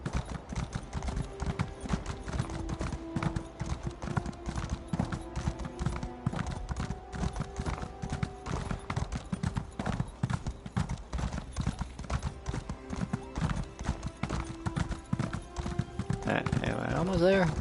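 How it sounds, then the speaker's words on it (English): Continuous rhythmic hoof clip-clops from a ridden horse in an Elder Scrolls game fill the whole stretch at moderate loudness, with a brief whinny-like burst near the end. "I'm on a horse."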